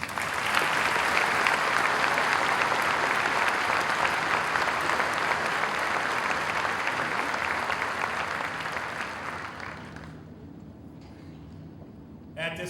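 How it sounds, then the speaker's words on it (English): An audience at a 2008 Wadsworth High School commencement applauds the salutatorian, steady dense clapping from a large crowd that continues for about ten seconds before fading out. "help me in congratulating him with a round of applause"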